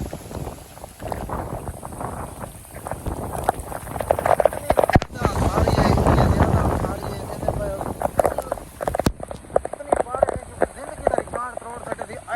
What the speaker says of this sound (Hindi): बारिश फुल आ गई है